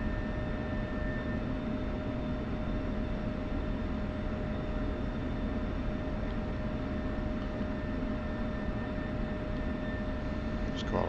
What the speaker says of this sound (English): So I'll go ahead and get this bird taxied and parked and shut her down